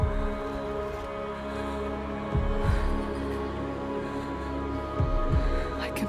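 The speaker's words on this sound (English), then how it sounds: "The heartbeat of the lost ones." Deep, muffled heartbeat thumps in a video game trailer, arriving in two paired lub-dub beats over a steady low droning hum, the pulses fairly soft and spaced several seconds apart.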